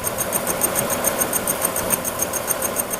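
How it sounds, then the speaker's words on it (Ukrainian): A milling machine cuts across a 1000 mm steel plate, producing a steady, loud mechanical whir with a high whine running continuously throughout. "Ну і переставив я плиту, переїхав. Отака от фрезеровка."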